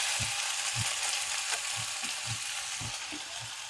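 Sliced onions and curry leaves fry in hot oil for a Telugu-style palak pesarapappu, giving a steady, close broadband sizzle with soft low thumps of stirring at a regular pace throughout, no voices.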